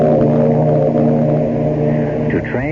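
Ship horn effect from a 1974 radio mystery drama, a loud sustained low tonal blast held steadily and fading slightly at the end, heard alone.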